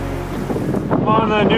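Strong headwind roars across the microphone on a coastal bike path by the Mediterranean in cold February air, a loud, buffeting rumble that swells and gusts throughout with no talk.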